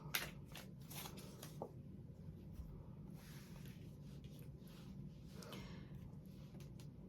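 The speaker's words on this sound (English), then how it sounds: "Let me shuffle up this clarifying deck." Soft papery riffles and flicks of tarot cards being shuffled, a few quick bursts over a steady low room hum, close and quiet.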